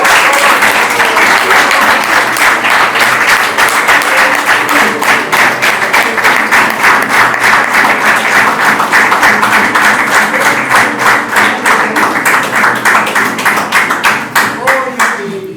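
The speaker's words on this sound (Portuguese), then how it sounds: "mais uma salva de palmas" A church congregation at an Easter celebration service breaks into loud, sustained applause, many hands clapping in a rhythmic, nearly unison beat that keeps steady before tapering at the end.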